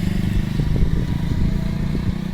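An old-type motorcycle engine fitted with a Honda carburetor, on an altered bicycle, runs steadily at idle with a loud, close, throbbing low rumble and light mechanical clatter, with no speech.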